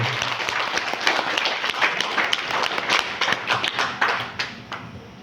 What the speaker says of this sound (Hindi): एक जोरदार ताली हो जाती है।